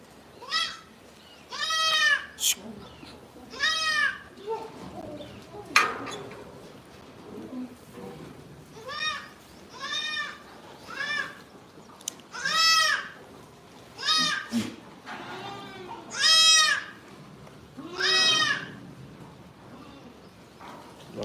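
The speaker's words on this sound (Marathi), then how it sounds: "तर हे बारक पिल्लू कोणत्या तरी शेळीचं आहे" A young goat kid bleats repeatedly in high, wavering cries, about a dozen calls spaced a second or two apart, close by in a quiet setting on a goat farm.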